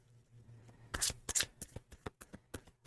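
A Tarot Apokalypsis deck being shuffled close by, a burst of riffling followed by a quick series of crisp, rhythmic card slaps, with no talking.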